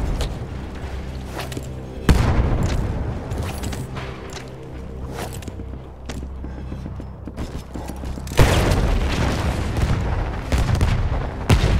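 Battlefield 1 combat with loud booming explosions, a heavy blast near the start and another later, over continuous rumbling gunfire and battle noise throughout.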